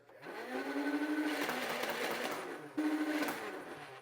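A motorized X-Shot Rage Fire foam blaster fires in two bursts: a loud, sustained whirring motor with rapid rattling shots, a brief gap, then a second short whir.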